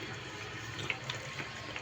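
Hot water pours into a cooking pot of spiced chicken for oats khichuri, a faint steady liquid stream with a few small splashes, heard alone.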